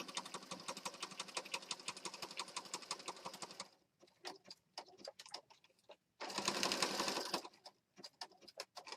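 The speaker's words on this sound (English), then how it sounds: "regular sewing machine. I'm using black thread." A regular sewing machine stitches with black thread, set to a 2.5 stitch length and width, in a steady rapid mechanical whir that runs continuously, then breaks into short bursts and pauses before a final loud stretch of stitching.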